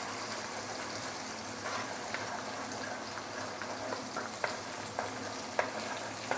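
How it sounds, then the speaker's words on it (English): Egg frying alongside vegetables in a hot wok for fried noodles with roast pork, a continuous close sizzle with occasional sharp taps and scrapes of a spatula. "Then I'll push the veggie to the side and add in the egg."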